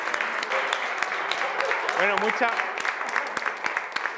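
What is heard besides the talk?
audience applause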